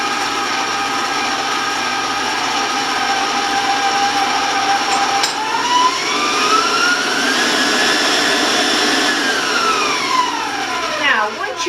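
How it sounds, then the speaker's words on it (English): An electric mixer beats eggs with granulated sugar, giving a steady, loud mechanical whir that shifts in pitch partway through as the beaters work the mixture, continuous and without talk. "So I want to warn you about the sound of the mixer"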